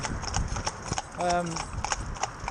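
Horses of a four-in-hand team walking on a road in traffic, hooves clip-clopping in an uneven rhythm close by, with a brief whinny midway and someone talking over the hoofbeats.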